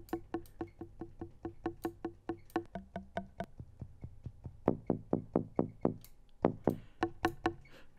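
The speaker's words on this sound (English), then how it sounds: "Here's more like kind of a rim shot." A crisp, dry synthesized rim shot hit made in Ableton Collision repeats in a quick steady pattern, with sharp knocking attacks and short decays, alone and fairly quiet.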